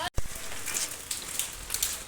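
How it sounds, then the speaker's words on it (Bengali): Rain falling outdoors makes a steady, close hiss of drops on surfaces, continuous and fairly loud after a brief dropout at the start, with no talking. "যেই আমি বেরোবো বলেছি অমনি বৃষ্টি আরম্ভ হয়ে গেছে"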